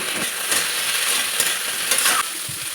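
Potato, eggplant and beans are stir-fried in a pan, giving a steady close sizzle with scraping stirs that rise briefly several times, and no talking.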